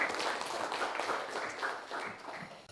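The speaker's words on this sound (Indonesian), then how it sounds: "Tepuk tangan untuk Agung Tari." Applause from an audience at an online teacher performance assessment session, a steady wash of many hands clapping for about three seconds, moderately loud and alone with no talk over it.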